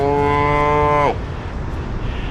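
A calf lets out one loud, close moo lasting about a second, then the sound drops to low outdoor background noise.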